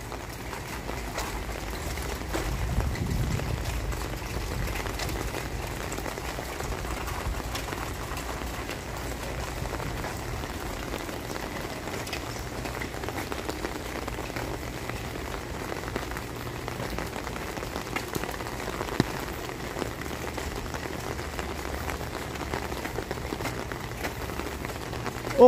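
Steady rain falling outside a library on a humid day, a continuous soft patter of drops on surfaces lasting throughout, even and unbroken with no voices.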